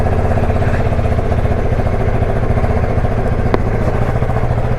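Vehicle engine idling steadily after a morning start, a close, even rhythmic putter that runs throughout with a brief click partway through.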